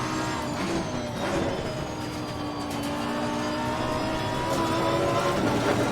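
A race car engine in Assetto Corsa Competizione drones steadily at high revs, shifting pitch through gear changes and corner exits, loud and continuous with no talk.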